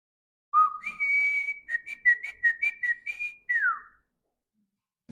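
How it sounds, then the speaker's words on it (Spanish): A person whistles to call children together, a clear, close melodic call of a long opening note, a run of short repeated chirps and a final falling slide, alone in quiet surroundings. "La manera en la que yo los juntaba era con un silbido."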